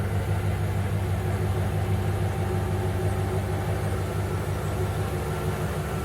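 A Jeep ZJ's Chrysler 318 5.2-liter V8 idles steadily, a close, continuous low rumble with a fixed even tone and no change in pace throughout.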